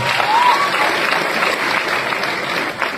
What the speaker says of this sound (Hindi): मैं चाहूंगा बड़े भैया के लिए बस जोरदार ताली होनी चाहिए।